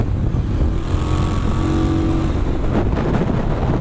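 An Aprilia Shiver 900 motorcycle accelerates on the road, its engine note climbing steadily over constant wind and road noise, loud and close, with no talking.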